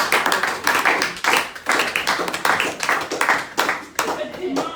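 A church congregation claps in praise of the Lord, loud rhythmic applause in repeated bursts with short gaps, voices mixed in beneath the clapping.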